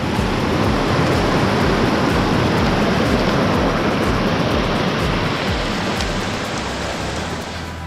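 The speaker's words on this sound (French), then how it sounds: "C'est ça aussi l'UTMB, et traverser de rivière." River water rushes loudly and steadily as runners cross a stream on the Tour du Mont Blanc trail during a UTMB course reconnaissance, a dense continuous roar from start to finish that eases slightly near the end.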